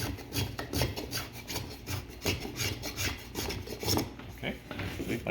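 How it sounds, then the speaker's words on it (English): A hand plane shaves a wooden lapstrake boat plank down to a line, making steady, close rasping strokes in a continuous rhythm, with no talking. "you're making sure that when you're planing down to the line"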